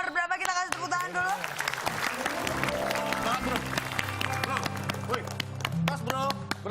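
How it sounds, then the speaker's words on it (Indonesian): Studio audience applause at an Indonesian quiz show, a dense clapping wash running steadily throughout under loud talk and background music. "kita kasih tepuk tangan dulu"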